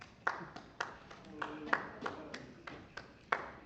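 A few audience members at a Long Branch, New Jersey city council meeting clap in a brief, sparse burst of separate claps heard through a room microphone, with no talking over it.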